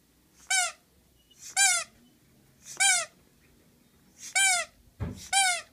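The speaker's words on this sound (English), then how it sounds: "Here's the squeaky toy." A dog's squeaky toy squeaks five times at a steady, roughly one-second pace, each squeak a short rising-and-falling squeal heard close and clear against a quiet room.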